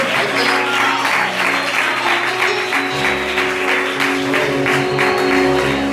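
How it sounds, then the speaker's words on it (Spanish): A church congregation in Lutxana applauds during a worship service. Sustained, lively clapping fills the room while steady held music tones play beneath it, growing fuller partway through. "¡Aplauda al Señor!"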